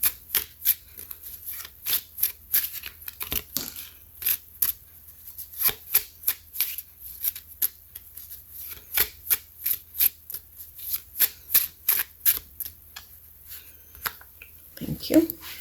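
A deck of cards gets shuffled again and again in quick riffling bursts, close and crisp, with brief pauses between them while someone talks over the sound.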